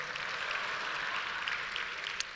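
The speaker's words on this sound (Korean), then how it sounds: "다시 한번 박수 해줘" A church congregation claps together in steady, dense applause during a revival service sermon, close and even throughout with no pause.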